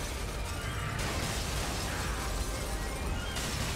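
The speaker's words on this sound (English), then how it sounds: "He's like shooting missiles at me." Missiles fired by an enemy in the video game Soul Sacrifice Delta burst and explode in a dense, noisy rush, with a sharp shift in the blasts about a second in and again near the end.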